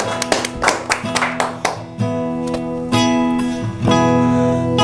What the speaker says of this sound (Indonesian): kita beri tepuk tangan yang meriah untuk dia